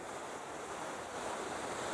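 Steady wash of surf with whitecaps breaking and collapsing along a beach, a continuous broad roar with light wind buffeting the microphone, no talk over it.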